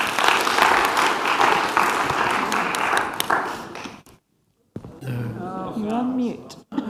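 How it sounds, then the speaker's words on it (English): Audience applause greeting a speaker at an Israel at 75 event, a dense burst of clapping that cuts off abruptly after about four seconds, followed by talking. "Please let us welcome her with a round of applause."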